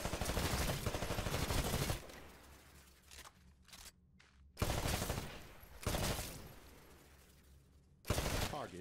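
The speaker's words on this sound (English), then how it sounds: "Switch to your rifle. To take a more calculated shot, you can aim down the sights of your weapon. Destroy all of the targets in the shooting range." Rifle fire crackles at targets on a Titanfall training shooting range, in several loud bursts of rapid shots separated by quieter gaps with faint clicks.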